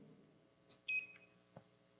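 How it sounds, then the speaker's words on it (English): A weight-bearing scale device signals 25% of target weight with a short, clear electronic beep, preceded by a faint blip and followed by a soft tap, in an otherwise quiet room. "it will beep in a second"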